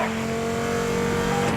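SRT Viper GTS engine in a Need for Speed racing game, a steady droning hum held at constant pitch, loud and close, with no voices over it.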